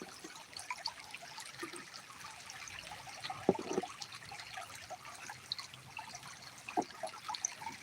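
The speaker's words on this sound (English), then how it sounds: "you got the full size super sluice going" Water trickles and splashes steadily through a full-size super sluice during gold prospecting outdoors, a continuous low wash with a few sharper splashes and knocks.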